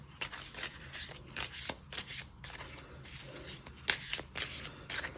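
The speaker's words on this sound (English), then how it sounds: "I like the sound that it makes when it shuffles" A deck of tarot cards being shuffled by hand at close range, a run of quick riffling bursts with brief pauses between them, crisp papery flutters repeating through the stretch with no talking.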